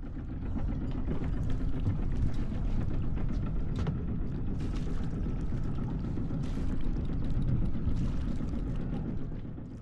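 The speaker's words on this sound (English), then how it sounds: "The engine is pushing the boat to the dock against the Moitessier tide." A boat engine rumbles steadily and low for several seconds, with water and wind noise over it and no voices.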